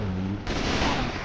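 Rapid gunfire from a Left 4 Dead 2 shooter match, a dense burst of shots that roars on continuously and loud after a brief opening stretch of lower rumble, with faint voices mixed underneath.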